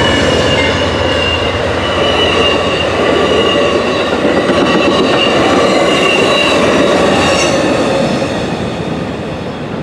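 A CSX or Amtrak train rumbles past at close range in Brunswick, Maryland, loud and continuous, with rolling wheel noise and metallic squeals that slowly fade.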